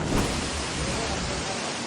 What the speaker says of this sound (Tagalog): Malakas din ang buhos ng ulan.